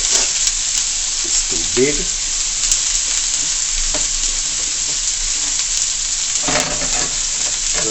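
Cabbage and carrot sautéing in a pot for Jamaican-style chicken chow mein, a steady close sizzle with a few stirring scrapes, and a brief spoken word.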